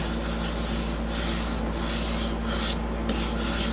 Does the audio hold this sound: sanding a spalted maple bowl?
yes